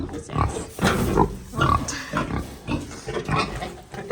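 A pig grunts and oinks repeatedly inside a Wisconsin farm barn, close and fairly loud, overlapping with a person talking nearby.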